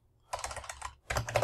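Two quick bursts of keystrokes clatter on a computer keyboard, close and fairly quiet, separated by a brief pause.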